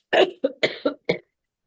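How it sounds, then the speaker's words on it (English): A person coughing five times in quick succession, close and clear, with short silent gaps between the harsh bursts and nothing else around. "sorry to be greeting you coughing this afternoon"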